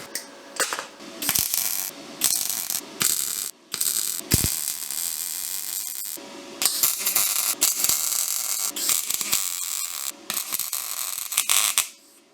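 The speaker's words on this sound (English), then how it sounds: "We're going to weld it together, and then we'll weld it all on there." Steel angle iron being welded onto a Harbor Freight 20-ton hydraulic press: a harsh, close, loud crackle arrives in bursts with short gaps between beads, with no talking.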